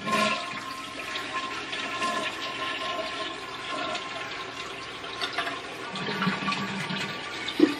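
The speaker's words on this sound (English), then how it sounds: "I'm just going to go ahead and move ahead and flush this." A household toilet flushes close by in a steady, rushing gush of water that swirls on for several seconds before the tank starts refilling.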